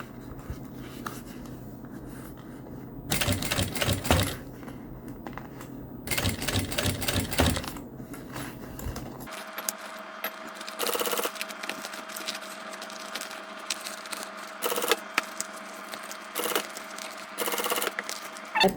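Sewing machine stitching close along the rounded edge of fabric piping on a small thread pouch: a steady mechanical whirr running in bursts with brief pauses, then continuing as a lighter, busier chatter, close and alone.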